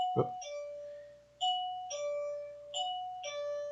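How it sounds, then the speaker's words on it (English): An electronic doorbell chime triggered by a motion detector rings several times in a repeating two-tone pattern, clear and fairly close, with a brief knock or thump at the start. "Ooh, doorbell. That's my motion detector."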